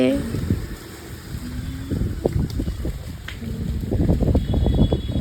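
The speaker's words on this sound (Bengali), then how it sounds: "আশা করি ব্যাকগ্রাউন্ডের সাউন্ড শুনে বুঝতেই পারছো ওদের সাইডে কিন্তু অনেক ঝোড়ো হাওয়া বইছিল" Strong stormy wind gusting outdoors near fields of kash flowers under a clouded sky, a steady loud roar and buffeting across the microphone with uneven surges throughout.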